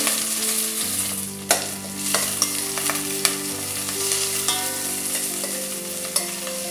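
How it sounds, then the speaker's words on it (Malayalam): Ginger, green chili, curry leaves and shallots fry in a pan for rice upma, giving a constant close sizzle punctuated by scattered sharp pops and occasional stirring clinks, with no voices. "ഇപ്പം നമ്മുടെ ഉള്ളി നന്നായിട്ട് മൂത്തിട്ടുണ്ട്"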